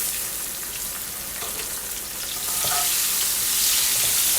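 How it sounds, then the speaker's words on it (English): Onions frying in leftover chicken wing grease for smothered wings, a steady close sizzle and crackle that grows louder and brighter toward the end, with no talking. "I'm going to throw some onions in here"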